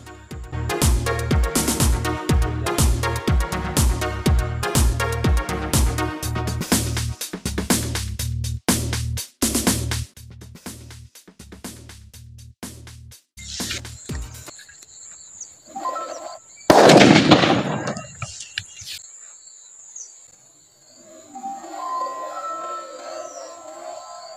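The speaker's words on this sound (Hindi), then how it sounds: "देख सकते हैं हमारा बुलेट बम ने किस तरह से इस ताले को फोड़ दिया" A bullet bomb firecracker set off against a padlock to break it: a long, loud series of rapid cracking bursts, then a pause and a single heavy bang followed by fading crackle, close and outdoors-sounding.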